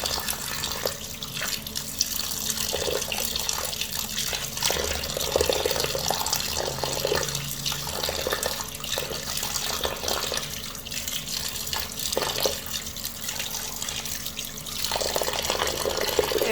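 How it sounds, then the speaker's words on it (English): Steady running water from a tap splashes continuously over hot cut potatoes for French fries in a sink or bowl, filling the whole stretch without pause. "Continue to put them in water."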